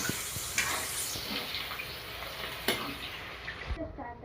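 Vegetables frying in a pan with a quarter spoon of seasoning, cooking until golden, a dense close sizzle with occasional stirring clicks and scrapes, fairly quiet overall and with no talk.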